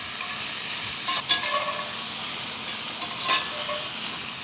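A steak sears in a pan during a hotel-room meal, giving a steady hiss of sizzling fat with a few brief sharper crackles rising out of it, close by and without talk.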